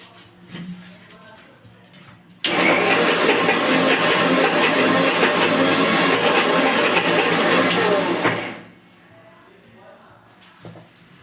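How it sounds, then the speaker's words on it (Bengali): A mixer grinder whirs steadily for about six seconds, grinding soaked lentils with green chilli and ginger, starting abruptly and winding down at the end, with quiet kitchen sounds before and after. "এবার এটাকে আমি একটু মিক্সিতে বেটে নেব।"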